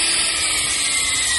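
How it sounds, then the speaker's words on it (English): Cordless drill running on a nearly dead battery outdoors at night, a steady high whirring drone throughout, loud and close, with no voices. "Drill battery is toast."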